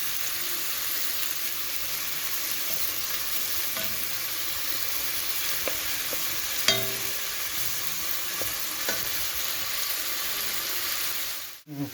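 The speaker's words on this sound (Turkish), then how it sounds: "soğanlarımızı yağda kızartıyoruz pembeleşene kadar" Onions sizzle and crackle steadily in hot oil, close up, frying until pinkish, with an occasional clink.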